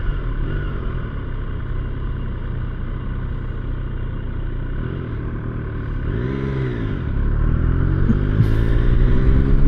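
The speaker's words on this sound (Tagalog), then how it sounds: "Now we've talked about the sound of the exhaust." Triumph Trident 800 motorcycle exhaust: a steady, close engine drone that swells as the revs rise and falls back again, getting louder toward the end, with no talking.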